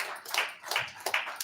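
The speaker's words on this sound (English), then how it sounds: "A round of applause, please" Applause from the audience at a civil society meeting with the INEC chairman ahead of the Anambra and FCT elections, heard as several quick bursts of clapping that swell and fade over a brief moment.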